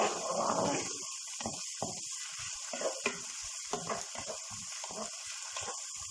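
Chopped onion and carrot sauté in a pan for Turkish meat pilaf, a close crackling sizzle with bursts of stirring and scraping, loudest at the start and then settling into lighter intermittent frying.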